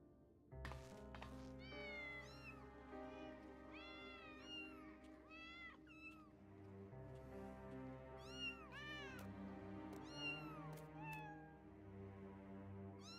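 Several cats in the video game Final Fantasy XIV meow again and again, with rising and falling cries overlapping over a steady low musical backdrop.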